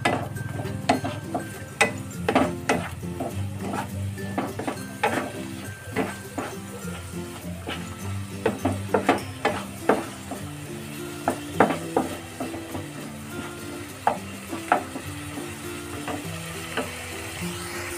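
Onion tomato paste fries in a pan for chicken gravy while being stirred, with a steady sizzle under repeated clinks and scrapes of the spoon against the pan, close and continuous.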